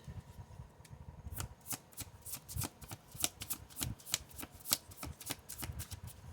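Large, stiff tarot cards being shuffled by hand, a run of crisp riffling bursts and soft slaps in an uneven rhythm, close and fairly quiet with no talking.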